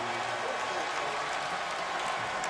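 A packed arena crowd at a Kentucky vs. UCLA college basketball game roars and claps in a continuous loud wash, with a commentator talking over it.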